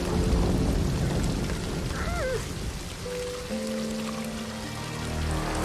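Heavy rain hisses steadily throughout, with a few faint chirps and a low tone briefly rising above the downpour.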